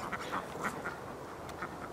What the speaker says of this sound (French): c'est des petits canards qui se baladent